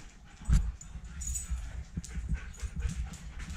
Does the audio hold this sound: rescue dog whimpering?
yes